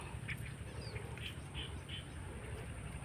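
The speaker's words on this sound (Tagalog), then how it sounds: "Wild duck mga idol." Wild ducks quack faintly at a distance during a duck hunt in the Philippines. A few short calls are scattered over a steady low outdoor rumble.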